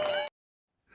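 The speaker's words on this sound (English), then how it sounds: "Ring the bell!" A bright bell ding rings out loud and close, its harmonic tone sustained briefly before cutting to silence, followed by a faint rising noise at the end.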